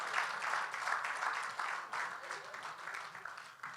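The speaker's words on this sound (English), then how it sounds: "Let us put another wonderful round of applause for them." Audience applause at a CV and job seminar, a steady wash of many hands clapping at moderate volume that eases slightly toward the end.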